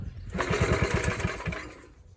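A Suffolk Squire lawn mower engine, a barn find, revs up under a little throttle with a rapid, loud putter that rises and then fades away, with no talking.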